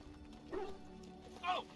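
A dog in Dragon Age: Origins gives two short yips or snapping barks about a second apart, quiet and close, over a faint game background.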